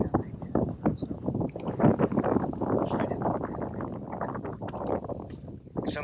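Gusty wind blows across a lake during bass fishing from a boat, buffeting the microphone with a loud, uneven rumble that surges and eases throughout.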